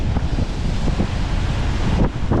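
Large sea waves breaking and splashing near a shore, a loud continuous wash with wind buffeting the microphone and several sharper surges of surf.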